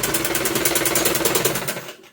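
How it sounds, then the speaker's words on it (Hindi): A sewing machine runs steadily, stitching a sleeve onto a simple suit, its rapid rhythmic needle chatter close and continuous before stopping near the end. "बिल्कुल इस पर अटैच करते हुए जाना है और सिलाई लगाते हुए"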